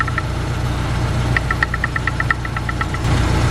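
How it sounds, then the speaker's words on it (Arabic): A running car engine with piston slap gives a rapid, regular metallic knocking that ticks clearly over a low, steady idle hum, heard up close with no talking. "طبعا هسه فرينا المحرك، فنلاحظ هاي"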